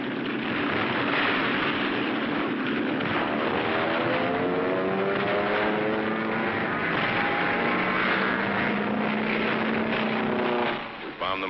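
A WWII military aircraft drones steadily in flight over an island, its propeller engine a continuous loud roar throughout, with a narrator talking over it.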